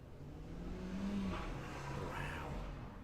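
A video-game car engine in Cities: Skylines revs and drones faintly in the background, rising briefly in pitch, with a low steady hum underneath.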